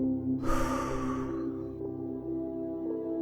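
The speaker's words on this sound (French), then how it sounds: "Je souffle fortement." A single strong, forceful exhale during a relaxation exercise, a loud breathy rush of air that fades over about a second, set against soft background music.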